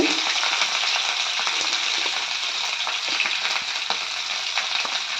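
Onion, green chili and chopped ginger fry in a pan with curry leaves and split black gram for wheat rava kichadi, giving a steady, loud, dense sizzle with faint crackles throughout and no talking.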